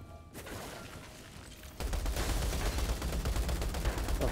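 A minigun in the video game Outriders Worldslayer opens up after a brief quieter stretch, then roars in a loud, continuous stream of rapid-fire shots that runs to the end.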